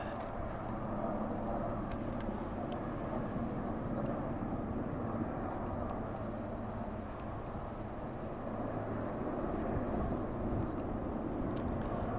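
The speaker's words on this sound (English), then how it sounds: "There's the helicopter." A distant helicopter drones steadily with a low rumbling roar that holds without pause throughout.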